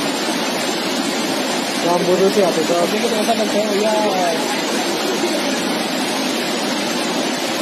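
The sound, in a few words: rushing river water in Kinnaur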